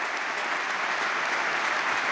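Sustained crowd clapping rings through the Alcàsser trinquet, a covered Valencian pilota court, as a women's raspall final finishes, thick and even throughout with no speech over it.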